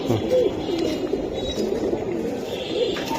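Silver Giribaj pigeons in a pigeon market or loft, soft repeated low cooing close by, a few rolling calls over a steady background murmur.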